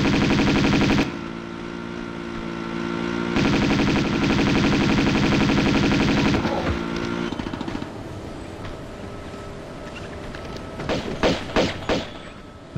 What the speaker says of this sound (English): And then just run behind him and shoot him.